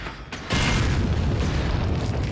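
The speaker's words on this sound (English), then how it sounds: "Grenade." A grenade goes off in Resident Evil 4, a sudden loud boom after half a second of quiet that rolls on as a dense, sustained low rumble to the end.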